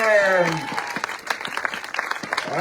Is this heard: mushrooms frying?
no